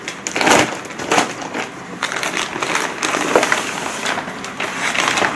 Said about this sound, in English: So on the back, you can actually just peel to open.